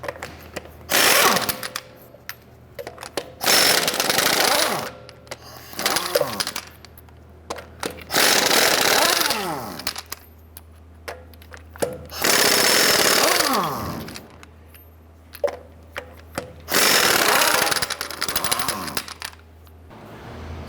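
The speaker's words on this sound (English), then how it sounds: "let's go ahead and remove our lug nuts" An impact wrench spins lug nuts off a Ram 1500 wheel with a 22mm socket: several loud, close rattling bursts of a few seconds each, separated by brief pauses and small metallic clinks.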